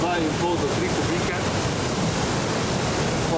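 Rushing river water where two streams meet, a dense, constant roar of fast water over rocks filling the whole scene, loud and close, without a break.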